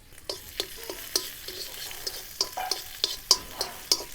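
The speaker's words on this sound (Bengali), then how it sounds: "এখন হালকা একটু ফ্রাই করে নিচ্ছি" Cashews and raisins frying in a spoonful of ghee, a light sizzle punctuated by regular, sharp spoon strokes against the pan, close and clear with no talking.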